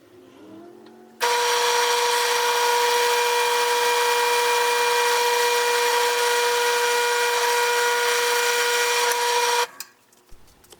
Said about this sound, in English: first hole drilled